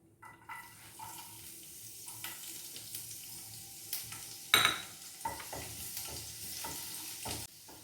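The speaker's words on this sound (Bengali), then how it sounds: "রসুনটা একটু সটে করে নিয়ে টমেটোটা দিয়ে দেবো" Garlic sautéing in a little white oil in a pan, a soft sizzle under intermittent spatula stirring and scraping, with one sharper clink of utensil on the pan midway, no voices.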